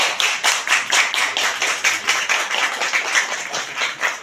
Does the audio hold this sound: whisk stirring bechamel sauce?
no